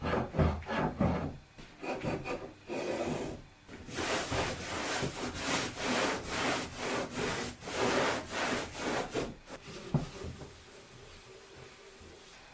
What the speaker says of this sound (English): I'm just going to wipe it down because it was sitting on the floor, so down here is a little bit dirty.